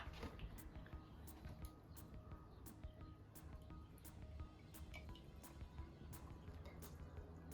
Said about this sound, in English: Now we're going to pour each liquid into the jar.